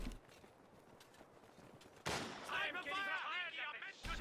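Machine gun fire in the WWII strategy game Company of Heroes 2, a quiet stretch broken by a sudden loud burst of rattling fire, with speech overlapping the shooting.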